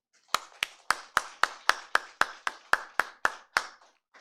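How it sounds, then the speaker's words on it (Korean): A single pair of hands claps in a church service, about fourteen sharp, evenly spaced claps close by, alone and without crowd applause. "하나님께 박수를 영광."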